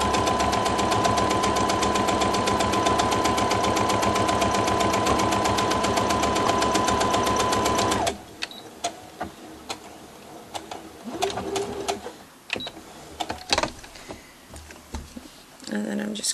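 Close, loud sewing machine running continuously for about eight seconds while stitching a fabric face mask, with a fast even mechanical rattle, followed by quieter scattered handling clicks and thread snips.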